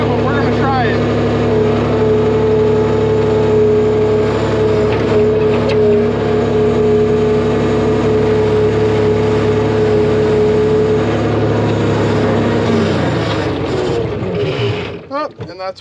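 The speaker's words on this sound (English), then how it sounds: "And that's where my fuel runs out." New Holland L783 tractor engine idling steadily up close for a long stretch, then faltering and cutting out as the fuel runs dry, followed by brief clunks.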